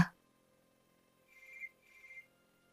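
Two short electronic telephone rings in a quiet room, each burst lasting under half a second with a brief pause between, faint and alone without any voices.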